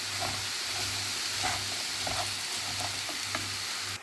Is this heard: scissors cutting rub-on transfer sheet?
no